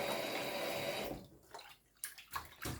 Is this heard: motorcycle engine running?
no